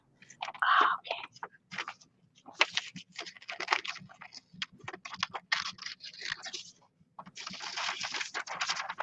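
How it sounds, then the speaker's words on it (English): Scissors snip and crunch through a toy's hair in short, close, crisp bursts with brief pauses between cuts, quiet and intimate like ASMR. "we're going to be real quiet while you use the scissors"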